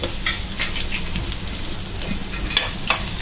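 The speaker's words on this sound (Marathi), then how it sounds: "साधारण 7-8 पाकळ्या ठेचून घेतल्या आहेत। ह्या बघा, त्या पहिल्या टाकून घेते।" Crushed garlic cloves, about seven or eight, frying in a pan over high heat, giving a loud continuous sizzle and crackle with a few sharper pops of spattering oil.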